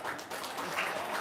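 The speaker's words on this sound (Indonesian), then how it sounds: "Tepuk tangan." Steady applause from a group of hands clapping together, a continuous dense patter that fills the short moment without pause.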